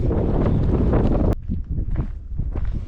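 Rough, gusty wind on a foggy mountain trail near Monte Reixa, Italy, buffets the microphone, loud and continuous at first, then easing into weaker intermittent rumbling gusts.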